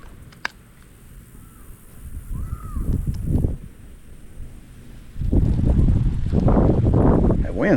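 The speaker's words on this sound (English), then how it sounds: "Wind's starting to pick up a lot." Wind gusting outdoors during fall bluegill fishing, rumbling across the microphone and growing louder and steadier partway through, with a bird call faintly heard early on.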